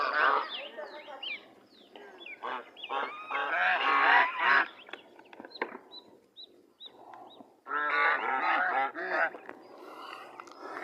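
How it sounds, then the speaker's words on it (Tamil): Geese honking at a farm in Kanchipuram, repeated loud nasal honks in bursts from a small flock close by, with pauses between volleys. "பங்களாவாத்து"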